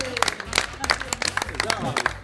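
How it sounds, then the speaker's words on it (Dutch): Applause and cheering from a group of volunteers in Leende, loud scattered claps with raised voices and chatter mixed in. "Applaus voor jezelf"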